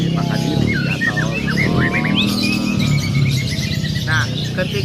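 A caged lovebird chirps and sings loudly and continuously in rapid twittering trills and sweeping whistles, close to the microphone, while a low murmur of voices or room noise runs underneath.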